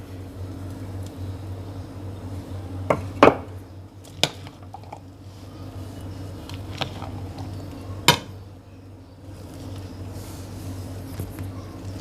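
A spoon stirs chana chaat with spices in a bowl, giving scattered clinks and a few sharp knocks against the dish over a quiet, faintly humming kitchen.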